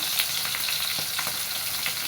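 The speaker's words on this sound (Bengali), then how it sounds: "মাছ ভাজা প্রায় হয়েই আসছে" Fish frying in hot oil, a dense continuous close sizzle with soft crackles and small pops throughout, no voices.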